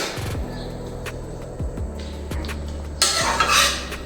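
Carrots cook in milk in a pot and a spoon stirs them, scraping and clinking against the metal in several rhythmic strokes over a low hum, with a brighter scrape near the end.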